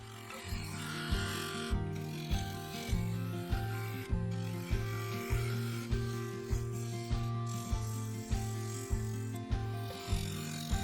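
A spindle detailing gouge cuts into a wooden offcut spinning on a woodturning lathe. The close, scraping rasp pulses in an even rhythm about twice a second over the lathe's steady hum.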